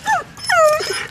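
A puppy met on a sunny walk gives two close, high, wavering whimpers in quick succession, with no talking over them.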